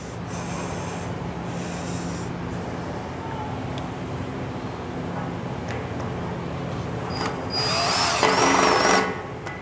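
A Hilti power tool fastens a multi-purpose stud into steel, a short loud mechanical whir near the end after a stretch of low background noise.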